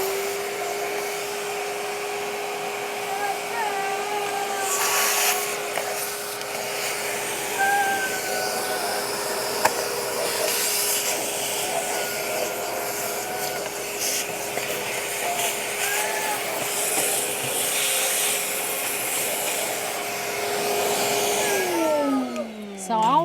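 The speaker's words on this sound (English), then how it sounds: "I'll be going ahead and getting it sucked up in the shop vac" A shop vac runs loudly and continuously while vacuuming around house plants, a steady whining motor drone with rough sucking and rattling shifts, winding down near the end.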